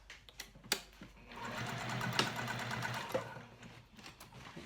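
A sewing machine stitches through a thick backpack strap holder, a close rapid whirring run of stitches that swells in the middle and is framed by a few short clicks and bursts.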